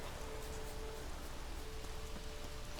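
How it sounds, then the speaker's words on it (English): Heavy rain pours steadily in The Witcher 3: Wild Hunt, a dense, continuous hiss of downpour filling the whole scene with no talk. "Raining fucking buckets."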